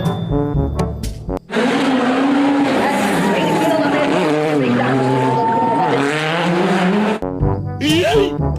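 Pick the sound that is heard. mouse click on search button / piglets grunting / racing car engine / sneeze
racing car engine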